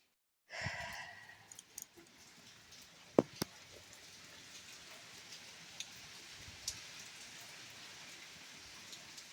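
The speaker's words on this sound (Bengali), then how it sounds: "এখনো দেখো বৃষ্টিটা কিন্তু পড়ছে" Steady rain pattering down on a surface, a continuous hiss with scattered louder drops and a few sharp ticks, no voices.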